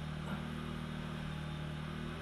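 A VW A3 2.0L petrol engine runs at a steady raised speed, giving a smooth continuous hum with no clear rise or fall.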